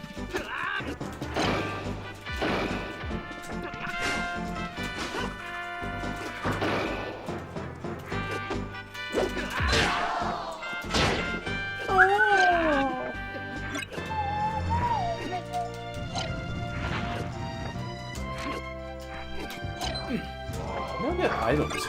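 Hits and smashes from the fighting video game Super Smash Bros, a busy run of impacts over game music and effects, with players talking throughout.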